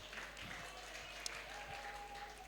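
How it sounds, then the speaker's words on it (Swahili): A church congregation at a Sunday service applauds, a faint, steady wash of clapping from a crowd with no voices standing out. "Mpigie makofi watumishi wa Mungu hapa."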